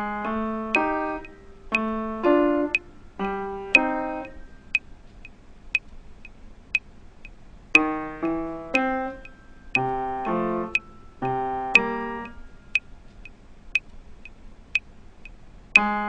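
Played slowly, a funk piano groove sets bass notes against short right-hand comping chords that fall in the gaps. A soft, steady metronome clicks throughout. The playing is clean and fairly quiet, with no talking.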